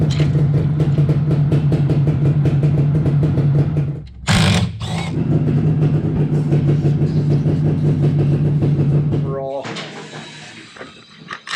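A workshop air compressor runs steadily with a low, even hum, briefly broken by a couple of sharp knocks midway and stopping near the end as the noise drops away.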